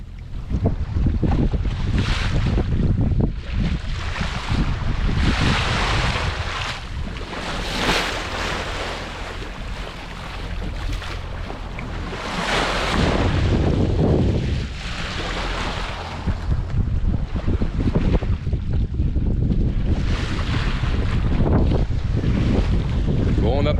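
A sailboat motoring off Madeira gives a constant low engine drone under loud gusting wind buffeting the microphone, with waves washing close by the hull the whole time.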